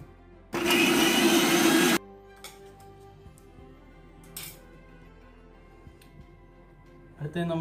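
A mixer grinder whirs loudly for about a second and a half as it blends beetroot for bomb soda, a dense steady motor roar that stops abruptly, followed by quiet clinks and handling noises.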